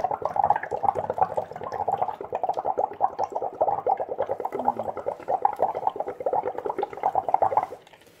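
Continuous bubbling gurgle as breath is blown through a straw into a tap water sample during a pH test, rapid irregular bursts close up, ending abruptly.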